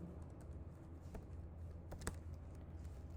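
Soft typing on a computer keyboard, a few scattered faint key taps over a low background hum, quiet and close.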